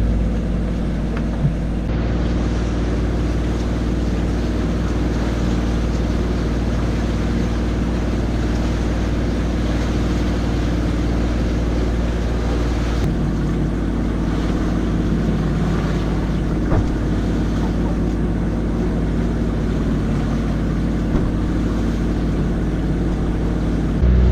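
A boat's engine drones steadily and loudly throughout on a long passage at sea, with wind buffeting and water washing against the hull, no voices.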